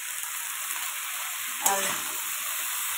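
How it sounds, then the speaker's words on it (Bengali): Okra fries in a pan with a bright, continuous sizzle. A short clatter, like a stir, comes midway, and a single spoken word is barely heard. "আমার ঢেঁড়স ভাজাটাও মোটামুটি হয়ে এসেছে, আর একটু ভাজা হয়ে গেলে ঢেঁড়সটা নামিয়ে নেবো"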